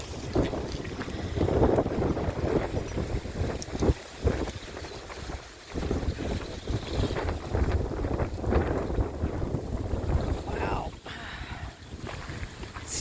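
Wind blows outdoors in a park and buffets the microphone with a loud, continuous rumble and gusty roar that rises and falls throughout.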